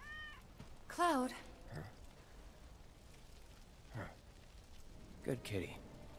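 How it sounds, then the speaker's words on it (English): A cat in the video game Final Fantasy VII Remake gives a couple of short, clear meows, one loud and one softer later, with character voices speaking around them over a quiet rainy background. "Good kitty."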